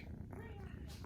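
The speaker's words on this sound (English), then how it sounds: "Look at this cute kitty." A domestic cat purrs in a soft, steady, close rumble while a person talks quietly nearby.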